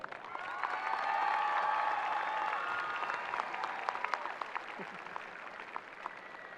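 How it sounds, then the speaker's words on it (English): Crowd at a high school graduation ceremony bursts into applause with some cheering, swelling quickly and then thinning into scattered claps, heard from within the audience in a large hall. "Please give Miss Susan Giddings a round of applause."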